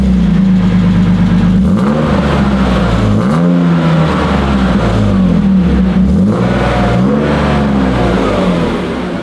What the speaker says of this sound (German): Wir starten jetzt das Auto zum ersten Mal